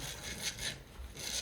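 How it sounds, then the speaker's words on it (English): A puppy scratches on a natural nail sharpening board, making soft, close, rhythmic rasping and rubbing strokes over a quiet, short stretch. "I love this natural nail sharpening board"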